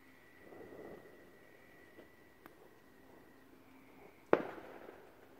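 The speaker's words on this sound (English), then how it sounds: "Look at that, was a firework." A single firework explodes in the sky: one sharp, loud bang with a short rumbling tail, preceded by a faint tone and quiet outdoor ambience.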